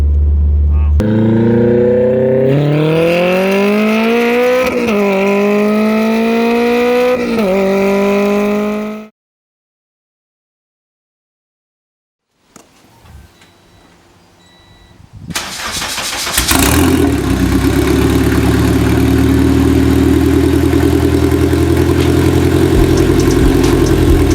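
A K24-swapped Honda Civic EG with hood-exit exhaust revs and rises in pitch, cuts off into silence, then restarts and settles into a roaring, sustained exhaust drone while driving.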